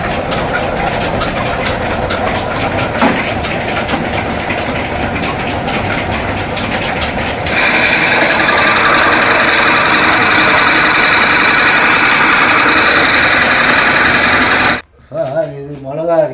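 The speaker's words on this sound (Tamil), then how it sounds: "இது மிளகா அரைக்கிற மிஷினு" A flour mill machine grinds chili, giving a loud continuous mechanical drone and rattle whose tone shifts and grows harsher midway, then cuts off abruptly near the end, where a voice speaks briefly.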